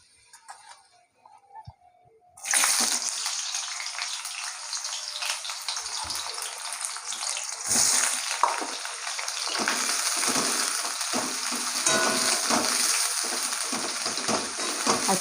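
Onions dropped into a little hot oil in a pan, ahead of cooking goat meat: after a near-silent start, a loud sudden sizzle bursts in and carries on as a dense, crackling fry, with faint stirring clicks.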